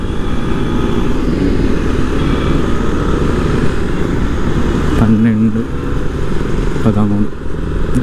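A group of about fourteen KTM motorcycles rides together on the road, a loud continuous engine roar close by, with a brief horn-like tone near the end; someone talks over it.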